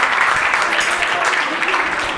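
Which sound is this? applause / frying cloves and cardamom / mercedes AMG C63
applause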